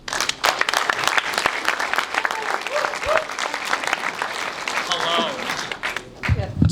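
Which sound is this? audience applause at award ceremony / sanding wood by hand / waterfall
audience applause at award ceremony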